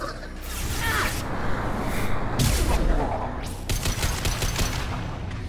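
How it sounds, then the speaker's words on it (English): Heavy automatic gunfire and bursts of shooting from a sci-fi battle in Mass Effect Legendary Edition, dense and continuous throughout, loud and close with overlapping shots. "We're taking heavy fire, but we're moving forward."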